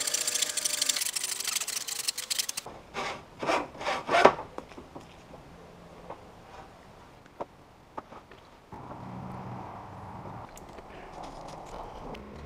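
Hand saw cutting a little off the top of a wooden support for a woodshed rafter, a short burst of rhythmic rasping strokes near the start, then quieter scrapes and handling knocks with background noise.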